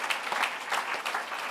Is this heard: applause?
yes